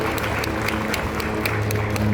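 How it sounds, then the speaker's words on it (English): Conference audience clapping at GITEX 2025, steady mid-level applause with a low hum and faint music beneath. "Clapping is always fine."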